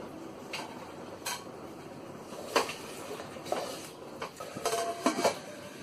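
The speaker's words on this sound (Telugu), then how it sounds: "చికెన్ వేసుకొని 2 మినిట్స్ కలుపుతూ వేయించుకోవాలి." Chicken being stirred in a frying pan, sharp metallic scrapes and clinks of a utensil against the pan at irregular intervals over a soft background hiss.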